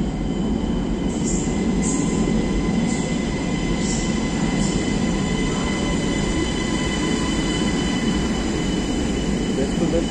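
A train runs along a railway line in Brussels with a loud, steady rolling roar close by for the whole stretch, plus a few high metallic wheel squeals near the start.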